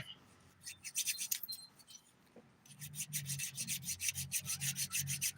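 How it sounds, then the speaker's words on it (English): Rapid rhythmic rasping of a thin 101 grit nail file shaping fingernails, a few strokes at first, then a steady run of quick close strokes after a brief pause. "This is a really thin 101 grit file, in case you're wondering."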